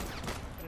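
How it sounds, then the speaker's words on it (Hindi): Gunshots in a GTA V roleplay game: a very short, dense burst of rapid gunfire, fairly faint. "अरे गोलियां मत मार"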